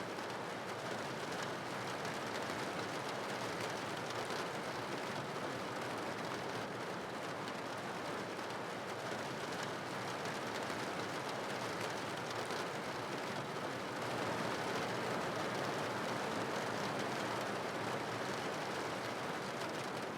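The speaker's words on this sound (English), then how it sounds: "The soft sound of rain touches the rooftop, steady and rhythmic." Steady rain patters on a rooftop, a dense, even hiss of drops continuing without a break throughout.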